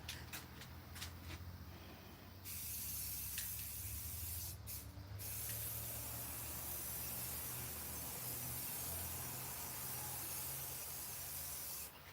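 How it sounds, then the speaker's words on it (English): Spray paint can hissing in a garage painting session, a few short bursts at first, then one long steady near spray held for most of the time. "We're just doing a little spray painting."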